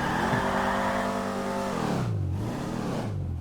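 A car engine in the video game GTA 5 revs up loudly, holds, then drops and swells again in pitch, close and continuous with nobody talking.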